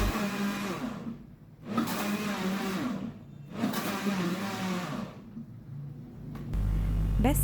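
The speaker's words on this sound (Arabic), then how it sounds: "ونبتدي نضيف خليط الدقيق والكاكاو على خليط البيض والسكر، ونضربه في الخلاط." An electric mixer whirs in rising and falling surges, beating flour and cocoa into an egg and sugar mixture for chocolate cake, its motor pitch shifting, close by and fairly loud.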